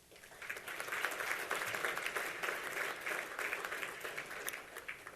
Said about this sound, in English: Let's start with a round of applause for everyone in this room.